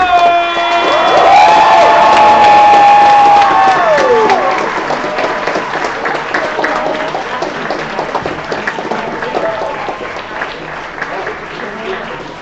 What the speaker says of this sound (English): Let's get a little slow clap going for first place